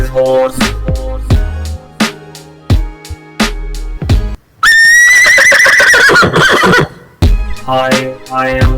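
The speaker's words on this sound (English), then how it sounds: "Hi, this is Horse." A horse neighs once, a loud, close whinny that quavers and falls in pitch over about two seconds, with music playing before and after.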